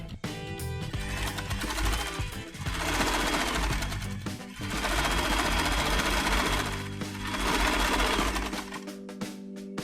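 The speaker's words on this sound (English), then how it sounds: "I'll use this knit stitch to sew the headband." A sewing machine runs a knit stitch on a cotton baby headband in loud, close bursts of rapid mechanical clatter lasting a few seconds each, separated by short pauses.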